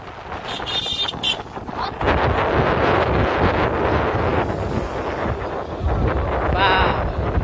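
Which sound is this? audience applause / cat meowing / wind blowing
wind blowing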